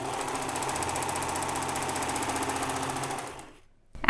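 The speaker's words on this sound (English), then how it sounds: "turn the machine on, and begin creating the chain by pressing your foot on the pedal" A serger sewing machine runs at a steady pace while chaining thread, a rapid even mechanical chatter for a few seconds before it stops abruptly, then a brief bump.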